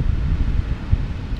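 Wind at a beach vista point lookout, a low, rumbling gusty roar buffeting the microphone, steady and fairly loud with no voices.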